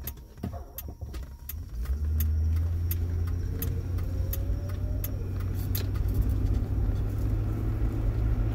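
A car drives along Beneva Road in Sarasota, Florida, its engine a steady, close hum that swells after a couple of seconds and holds loud and even, with a few light jangling ticks over it.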